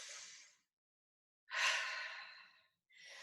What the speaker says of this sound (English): take a deep breath at the top